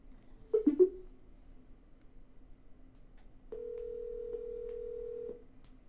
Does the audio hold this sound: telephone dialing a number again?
yes